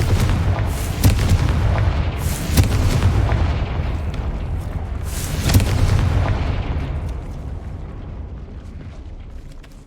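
A Confringo explosion spell goes off in the Hogwarts Legacy video game with loud booming blasts and sharp cracks, the heaviest near the start and again mid-way, over a rumbling bed that slowly trails off.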